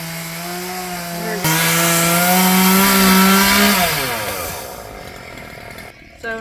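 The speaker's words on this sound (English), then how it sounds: "Hear the chainsaw going." A chainsaw on the roof of a burned-down house runs loud and steady, its engine pitch rising and holding as it bites into wood, then winding down and cutting off near the end.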